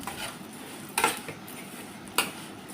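Semiya vermicelli fries in oil and ghee in a pan while it is stirred, with a low continuous hiss and two sharp clinks of a utensil against the pan.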